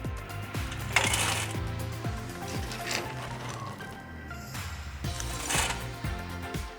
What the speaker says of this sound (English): Let's start by using the scoop and filling the burn chamber a quarter of the way up.